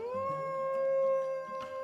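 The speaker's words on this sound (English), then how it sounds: "I think my heart melted a little hearing the wolves call to each other for the first time" Wolves in the Planet Zoo video game howl to each other in a long, smooth, sustained call that rises slightly and holds steady, with lower tones moving underneath.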